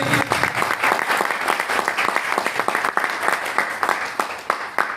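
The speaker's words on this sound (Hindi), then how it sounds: "तालियां" An audience applauds at an event, with dense rhythmic clapping that is loud and close and continues steadily throughout, with no talking over it.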